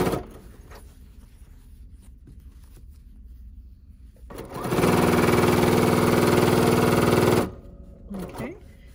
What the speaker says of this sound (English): let's lower our presser foot and get started